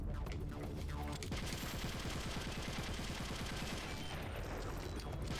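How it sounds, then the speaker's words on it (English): Rapid gunfire in Metal Gear Solid: The Twin Snakes, a loud, dense run of automatic shots lasting several seconds over steady game noise. "You can shoot the Mario doll and get life back."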